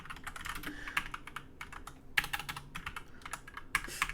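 Rapid keystrokes on a computer keyboard, clattering in irregular bursts with brief pauses between, fairly close and alone without any talk.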